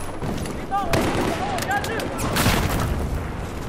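Shotgun fire in the video game Battlefield 4, a few sharp broadband blasts amid continuous battle noise, with a voice talking over the action.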